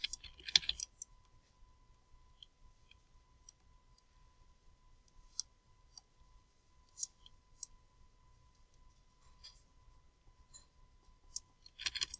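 Bracket keys on a computer keyboard are pressed in scattered, quiet clicks, with a brief burst at the start and a few more near the end over a near-silent room.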